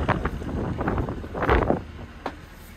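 Strong gale-force wind gusting against a microphone outdoors on a farm in the Lakes. Loud, uneven buffeting with a heavy burst near the middle, and no talk.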